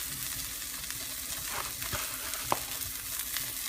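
A tortilla pizza fries in a pan over a gas flame, a steady close sizzle dotted with small bubbling pops and squeaks, no voices.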